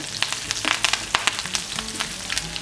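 Urad dal, cumin and two dried red chillies fry in hot oil for a bottle gourd curry, giving a close, steady crackling sizzle dotted with small sharp pops.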